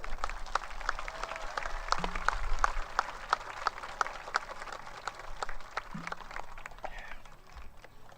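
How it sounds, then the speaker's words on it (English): Applause at an 8th grade middle school graduation ceremony, a scattered, fairly distant patter of individual claps continuing steadily, with a few louder sharp claps standing out. "One more round of applause for these students."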